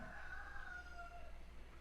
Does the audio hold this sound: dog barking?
no